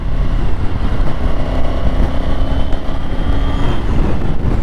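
A Triumph Tiger 900 GT motorcycle is ridden along a road, with a loud, steady engine drone mixed with dense wind rush, continuous throughout and with no voices.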